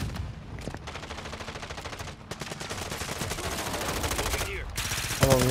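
Rapid gunfire from Call of Duty: Modern Warfare II in Rebirth mode, dense continuous bursts with clattering shots throughout, loud and close, with brief gaps and a sharper flurry near the end.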